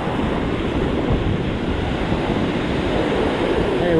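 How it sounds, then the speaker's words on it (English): Rough ocean surf breaking on a beach at Huntington Beach, California, a steady, loud wash of waves with wind buffeting the microphone throughout. "except for the waves being kind of rough"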